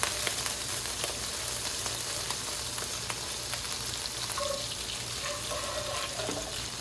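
Cumin seeds crackling in hot ghee, a steady dense sizzle with scattered pops throughout, close and moderately loud, no voices.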